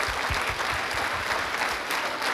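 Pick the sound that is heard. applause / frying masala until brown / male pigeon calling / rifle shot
applause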